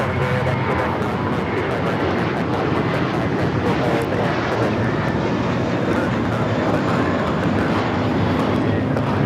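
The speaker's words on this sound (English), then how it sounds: "This is a defining moment taking off to Fort Lauderdale. It's JetBlue Flight 100. It's an A321 with the first mint livery." JetBlue Airbus A321 in mint livery taking off from Los Angeles LAX, a steady, loud, broad engine roar that holds throughout without fading, with people talking underneath.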